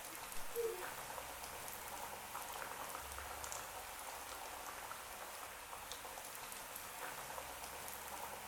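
Vegetable cutlets deep-frying in hot oil over a medium-high flame, a soft continuous bubbling and fine crackle, faint and steady throughout.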